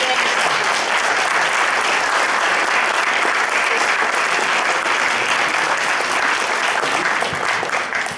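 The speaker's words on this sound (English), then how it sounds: "We have to keep the applause going so we can go on." A concert audience greets performers at a music show with loud, sustained applause that stays thick and even before easing off at the end.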